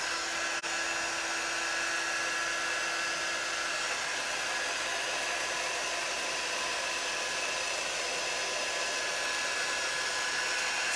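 A hair dryer blows continuously at close range over freshly painted tiles, a steady, loud whooshing whir with an even tone that holds unchanged throughout.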